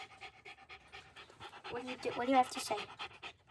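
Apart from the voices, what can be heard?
dog panting while trapped in a kennel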